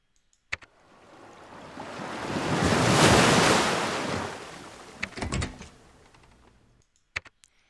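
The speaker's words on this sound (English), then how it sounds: "The water recedes slowly." Water receding slowly in the LakeLady video game, a soft rushing wash that swells to a loud peak mid-way and then fades, with a few sharp clicks and knocks at either end.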